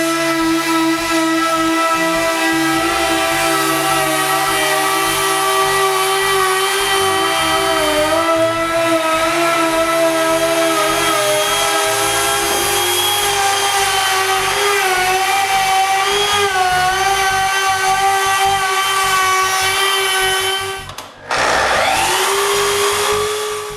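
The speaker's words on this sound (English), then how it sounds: "Now I can cut the excess with a palm router." A palm router trimming excess hardwood edging on a mitre station build, a loud, steady high-pitched motor whine with shifting harmonics that runs continuously, then cuts out briefly near the end and spins back up.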